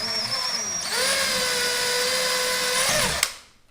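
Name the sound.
power drill drilling pilot hole in drywall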